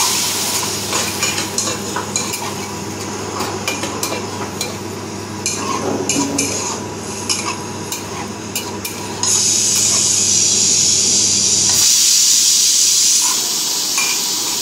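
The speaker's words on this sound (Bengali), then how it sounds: "ভাজা ভাজা হয়ে গেলে জলটা ঢেলে দেবো।" Water poured into vegetables frying in a pan for shukto, raising a loud continuous sizzle and hiss of steam alongside stirring, with the hissing swelling sharply partway through.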